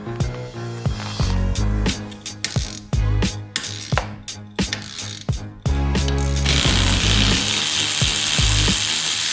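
A hand ratchet clicks rapidly in loud, close bursts while tightening hardware on a hitch extender for a motorcycle trailer, then gives way to a steady broadband hiss.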